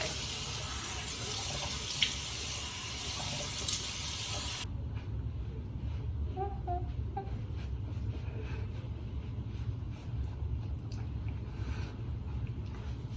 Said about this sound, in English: So I'm just gonna splash my face with some water and then just pat dry.